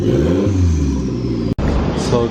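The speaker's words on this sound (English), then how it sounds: "So started up, rev it a couple times, sounds good." A turbocharged Mitsubishi Lancer engine runs loud and close, its low rumble rising in pitch as it is revved, cutting out abruptly for an instant, then resuming with a steady idle.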